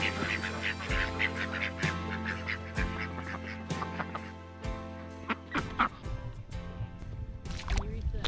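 Ducks quacking repeatedly in irregular bursts at close range, mixed with splashing and other outdoor noise.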